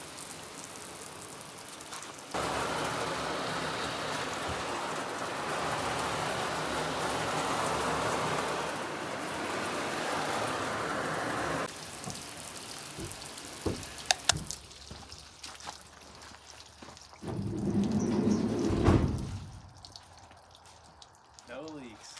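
Water sprayed onto the exterior of a camper van under conversion during a leak test, a steady rain-like hiss and patter drumming on the body for several seconds, then stopping, followed by scattered drips, knocks and a brief voice.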